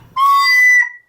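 A loud, shrill recorder note blown too hard, lasting about a second and squeaking up into a higher, harsher pitch before it cuts off.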